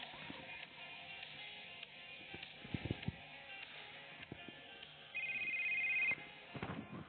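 A telephone rings for about a second with a steady electronic tone over background noise and clattering, played through a narrow, muffled recording.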